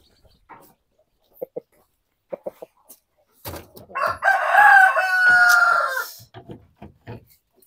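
Rooster crowing and chickens clucking inside a full coop of native Filipino chickens, with scattered short clucks early, then a loud sustained crow in the middle and a few more clucks after, close by.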